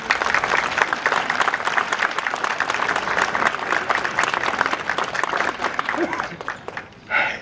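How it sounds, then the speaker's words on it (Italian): Audience at a Republic Day ceremony in Santena, Italy, on 2 June 2016 applauds steadily for several seconds, a dense sustained clapping that thins out near the end. "Ti darei un applauso per questa."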